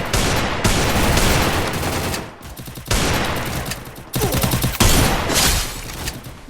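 Sustained automatic AK rifle fire in a video game, loud dense bursts broken by brief pauses, heard close and alone with no talking.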